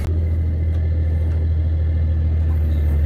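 An armored MRAP vehicle's engine rumbles loudly during a ride, a deep steady drone heard from inside the cab with little change in pitch.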